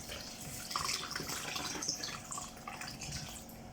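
Lukewarm tap water runs over dry couscous in a kitchen bowl, a steady splashing pour with small drips, fairly quiet and without talk.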